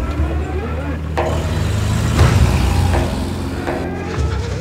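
A car engine revs and pulls away in a burst of acceleration, with a rumbling traffic-like roar and people speaking urgently over it.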